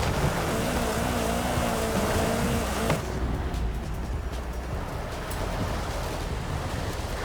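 A car engine drones steadily in Forza Horizon 5 as the vehicle strains on a rock crawl, with a dense continuous roar that shifts tone partway through.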